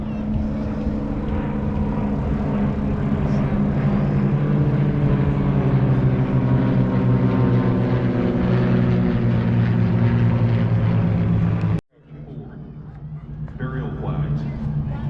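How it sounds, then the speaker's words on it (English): A formation of T-34 propeller airplanes flying over an airshow in salute, giving a steady, loud droning engine roar for many seconds, then an abrupt cut to quieter crowd ambience with a public-address voice speaking. "as our T-34s pass over in a salute to this nation and the freedom we all enjoy"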